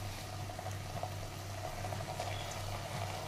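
Ginger garlic paste frying in oil in a pan, a soft steady sizzle and bubbling at low volume with a constant hum beneath and no speech.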